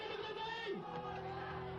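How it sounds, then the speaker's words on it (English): Wrestling crowd at an FMW fire death match chanting for Onita, a dense steady roar of many voices with rhythmic vocal swells, sustained and fairly far off. "Crowd chanting for Onita."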